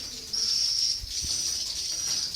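Swiftlets calling inside a swiftlet bird house converted from a small 5x5 boarding room, a continuous shrill high-pitched chirping chorus with a few soft low thumps, no talking.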